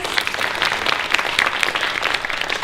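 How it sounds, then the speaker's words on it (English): A crowd applauds with dense, steady clapping throughout the short stretch at a university talk. "Can we give them all a round of applause?"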